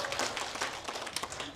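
An audience at a Korean folk song contest awards ceremony claps briefly, a soft, scattered patter of hands heard at a distance.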